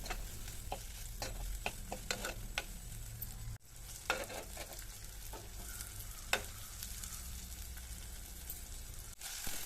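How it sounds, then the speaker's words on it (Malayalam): Okra sizzles steadily in a hot pan with chili and salt, a constant close frying hiss broken by scattered sharp ticks and scraping stirs, with no voices. "ഇതിൽ വെച്ചിട്ടൊന്ന് ചൂടാക്കി എടുക്കണം ഈ ഒരു വെണ്ടക്ക"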